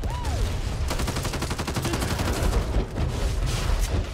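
Constant, dense gunfire in the co-op zombie shooter Back 4 Blood, overlapping rapid shots from several weapons forming a loud, unbroken barrage with rumbling low booms throughout.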